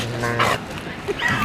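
At a dog agility competition with dogs of every size, short yips and barks pop out over busy crowd noise and background chatter, close and lively.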